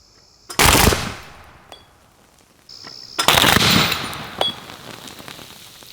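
Two loud high-current plasma discharge shots crack out while welding switch plates, each a sharp explosive burst that fades into a crackling, hissing tail, about two and a half seconds apart.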